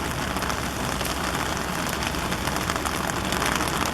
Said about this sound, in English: This rain that's coming in here is bringing in a little cold front.